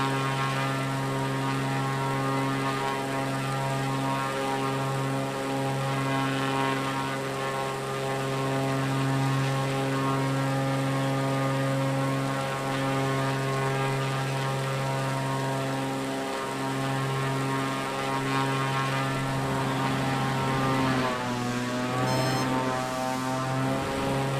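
Propeller plane droning in a flight simulator game during inverted flight, a steady, even engine hum with strong tonal harmonics that holds throughout, shifting pitch briefly near the end.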